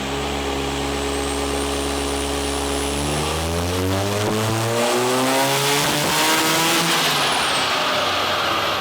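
A Mazda RX-7 FD rotary engine with an ignition upgrade and stock ignition on pump fuel revs hard during a dyno power run, its loud buzzing note climbing steadily in pitch before breaking up and cutting out near the end.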